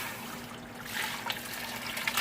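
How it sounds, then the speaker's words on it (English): Pressure-cooked Jamaican-style cowskin soup being poured into a pot, giving a soft, steady liquid splash and trickle that grows a little louder partway through, heard close by with a faint background hum. "so I'm going to pour it out in this pot."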